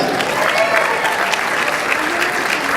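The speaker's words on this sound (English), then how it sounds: "Big round of applause for you guys." Audience applause at a regional success training event in Orlando, a dense, steady wash of clapping from a sizable crowd filling the whole stretch without pause.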